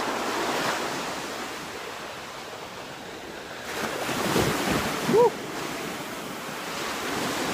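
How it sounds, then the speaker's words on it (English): Ocean surf washes and rolls continuously on a California beach with wind buffeting the microphone, swelling briefly louder partway through. "Look at the ocean."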